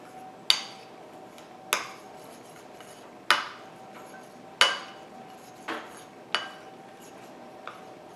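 Eggless vanilla cupcake batter is stirred in a bowl, with sharp clinks of the utensil striking the bowl's side about once a second or so, close and clear, and quiet scraping between them.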